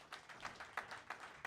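Brief, thin clapping from a small audience at a talk on long-term versus short-term rentals, a few light claps in loose rhythm, fairly faint.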